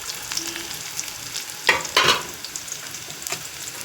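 Onions browning in hot oil in a pan, a soft low sizzle broken by a couple of sharp louder bursts of crackling, likely from stirring, then settling back to a faint hiss, no speech.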